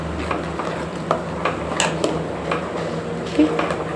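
Faluda mix stirred in a pot, Mumbai style: a steady scraping swirl with soft clinks of the spoon against the metal, close and moderately loud over a low hum.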